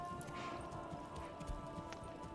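Horse hooves clip-clop steadily in the medieval strategy game Manor Lords, a continuous rhythmic patter at moderate volume over a constant background hum of game ambience and music.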